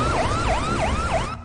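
A loud, close ambulance siren wails in quick repeated up-and-down sweeps, about four cycles, then cuts off abruptly.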